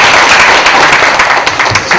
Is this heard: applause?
yes